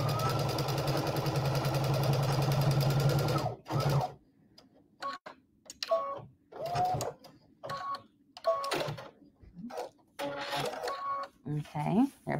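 Sewing machine stitching a patchwork border with ric rac, a long continuous whirring run followed by short stop-start bursts of stitching, with talking in between.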